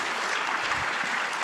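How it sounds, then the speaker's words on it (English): An audience at the RAISE Summit gives a speaker a round of applause, steady continuous clapping with no voices over it. "I hope we can get a round of applause for him."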